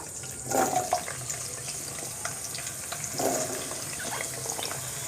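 Potatoes for aloo posto going into hot oil in a pan, giving a steady hissing sizzle with two louder bursts near the start and middle as pieces drop in, no talking.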